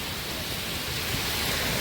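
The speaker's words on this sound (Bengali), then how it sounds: "তাহলে কি পরিমাণে বৃষ্টিটা হচ্ছে, আর যে পরিমাণে হাওয়া দিচ্ছে" Heavy rain driven by wind, a dense, steady wash of falling water, close and continuous, with no voices.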